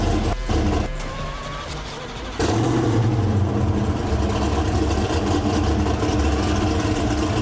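Engineered exhaust note of a Rimac electric hypercar, played back through speakers: a loud, dense, continuous rumble that thins briefly near the start, then swells and holds steady to the end.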